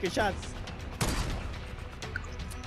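Gunfire crackles in a video game shootout, a few sharp bursts and single shots ringing out at moderate distance while a player's voice speaks over the action.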